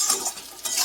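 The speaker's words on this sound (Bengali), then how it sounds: "মশলাটা আমি ভালো করে কষিয়ে নেব।" Spice masala with chopped tomato, salt and sugar being stirred and fried in a pan for spinach chicken, a brief close burst of hissing sizzle and scraping stir strokes.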